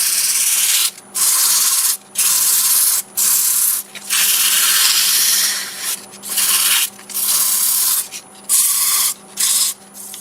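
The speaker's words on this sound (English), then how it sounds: "I'm going to sand it with sheets of paper starting with 120." Steady abrasive hiss of 120-grit sandpaper on wood turning on a lathe at 500 RPM, against the lathe's hum, broken by several short pauses; loud and close, no talking.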